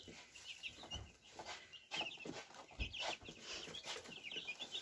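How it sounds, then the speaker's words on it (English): Baby chicks on a scrap-lumber roost give soft, scattered clucks and peeps, close by and fairly quiet, with no voices. "We just had a whole bunch of little chicks on here."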